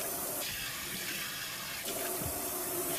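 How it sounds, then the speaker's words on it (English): Warm water running steadily during a spa hair rinse, a continuous close splashing flow that briefly shifts in tone partway through, with no talking. "You start at the bottom and rinse that hair."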